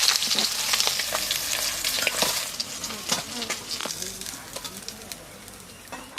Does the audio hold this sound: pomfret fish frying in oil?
yes